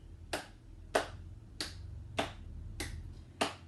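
Six crisp, evenly spaced hand claps or taps in a seated chair aerobics routine, each sharp and separate against a quiet room, keeping a slow steady beat.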